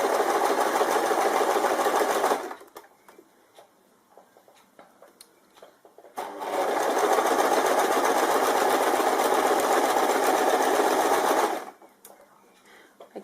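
A sewing machine stitches bias tape onto fabric in two long, fast, steady whirring runs, with a few seconds of quiet handling and soft clicks between them and a pause at the end.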